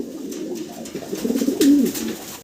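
A male and female pair of fancy pigeons coo in a soft, throaty rolling call, rising toward the end, close by with no speech.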